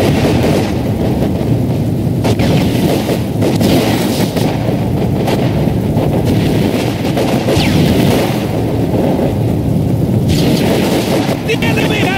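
A World War II battle in the video game Company of Heroes 2: a dense, unbroken din of gunfire and rumbling combat, loud and steady throughout, with soldiers' voices calling out over it.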